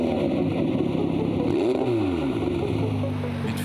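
McLaren 720S supercar engine revving on the road, a loud close rumble with a rising and falling rev sweep in the middle, and a steady drone underneath.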